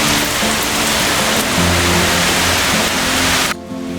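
Heavy rain with wind over a village house and mango trees, a loud continuous wash of noise with low rumbling gusts, cutting off abruptly near the end.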